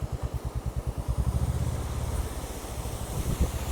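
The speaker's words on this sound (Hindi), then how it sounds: "वाटरफॉल रोड पर ही आ चुका है।" Water from a waterfall pouring across a mountain road near Gangotri, a steady rushing wash mixed with a low, rhythmic engine-like thrum and wind buffeting the microphone.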